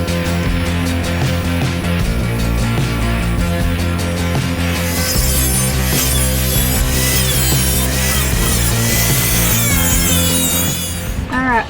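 A power tool, a grinder or saw, cuts a piece out of a Jeep Cherokee unibody fender area, grinding loudly and continuously with shifting pitch up close, no talk.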